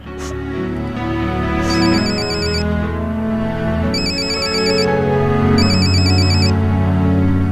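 A phone rings with an incoming call, its electronic ringtone sounding in three repeated bursts over a steady background of music or ambience, loud and close.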